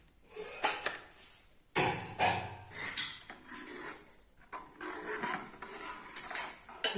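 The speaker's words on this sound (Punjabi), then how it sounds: "ਆਪਾਂ ਸਾਰਾ ਦਹੀਂ ਪਾ ਲਿਆ ਤੇ ਆਪਾਂ ਇਹਨੂੰ ਹੁਣ ਮਿਕਸ ਕਰ ਲਵਾਂਗੇ" Yogurt being stirred by hand in a bowl, with a utensil scraping and clinking against the sides in a steady run of close, moderately loud strokes and taps.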